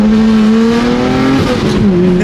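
A BMW F80 M3 accelerates hard with traction control on, its engine note rising loud and steady and close up, then easing slightly before pulling again.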